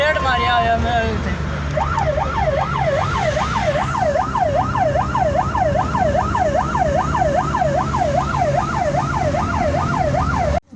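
An ambulance siren wails loudly and continuously in a fast, regular rising-and-falling cycle, close by, over a low vehicle rumble.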